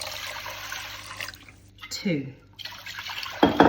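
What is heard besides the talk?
pouring cold water from a mug into a pan of rice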